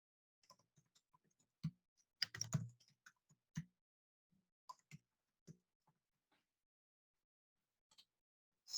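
Quiet typing on a computer keyboard while entering employee data into a form, sparse scattered key clicks with a short quick burst in the middle and long pauses between taps.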